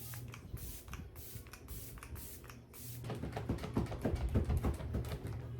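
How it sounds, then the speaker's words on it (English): Makeup setting spray is pumped onto a face in a quick series of short hissing bursts, close and soft, then gives way to busier light tapping and brushing sounds. "So then I take my setting spray and then I set my face before I go on with powder."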